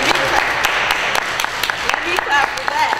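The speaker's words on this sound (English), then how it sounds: "Let me clap for that." Clapping during a gospel talk interview, sharp hand claps scattered through the moment with talk continuing over them and the claps standing out near the listener.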